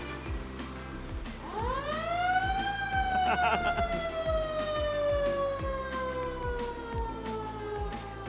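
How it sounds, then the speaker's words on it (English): A wailing emergency vehicle siren rises and falls in pitch over steady rumbling traffic noise at a Christmas parade, loud and close, with faint voices in the background. "turn your sirens on"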